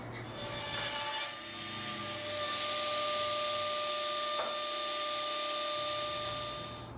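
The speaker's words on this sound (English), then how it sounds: "it's been a long time since I've used a handsaw, and I didn't do too bad" Handsaw cutting wooden bookshelf boards, a continuous raspy rubbing sound of the blade working through wood, close and fairly steady over several seconds.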